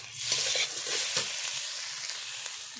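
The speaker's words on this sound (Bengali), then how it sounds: "ওর মধ্যে দিয়ে দিচ্ছি একটু তেল, দিয়ে ভালো করে ভেজে নেব।" Taro stems frying in oil, a soft steady sizzle with a few light stirring scrapes, close and quiet, with no talk.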